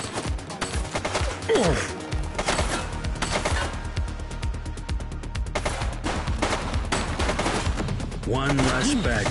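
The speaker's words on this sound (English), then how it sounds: "She's shooting!" A steady stream of automatic and single gunshots fills a video game shootout, loud and close throughout, with brief voices breaking in over the firing.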